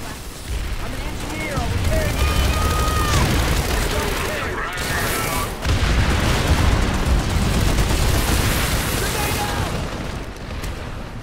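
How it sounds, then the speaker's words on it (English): Frag grenades exploding in the video game Planetside 2, a dense barrage of booming blasts and overlapping gunfire that stays loud and continuous, with a voice talking over the combat. "I'm gonna throw a bunch of frag grenades in."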